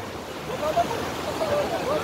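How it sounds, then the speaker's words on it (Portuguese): Steady rushing water, like a waterfall, fills the whole stretch as a dense, constant roar with slight surges. "Ó a cachoeira, filho."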